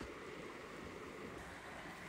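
A rocky stream in a flooded area of Madha, Oman, gives a steady, close wash of rushing water with constant broadband noise and no voices.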